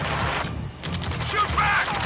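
Video game firefight with bursts of rapid gunfire, close and loud, under shouted voices calling out commands.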